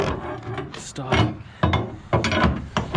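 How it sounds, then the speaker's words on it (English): A ratchet strap is cranked tight over a load of logs on a logging truck, making loud rough clicking and rasping strokes in a steady rhythm of about six pulls, close by. "the straps get loose and need to be tightened"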